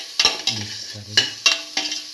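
Potatoes and French beans being stirred in a pan make several sharp, close spatula scrapes and knocks against the metal over a light sizzle.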